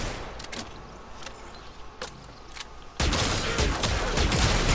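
Arca Plasmor plasma shotgun from Warframe firing in repeated sharp bursts, then a loud dense barrage of gunfire and impacts fills the closing seconds.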